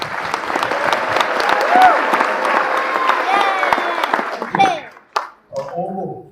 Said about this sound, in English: So, flutes, could you please stand up for a second so we can give you a round of applause?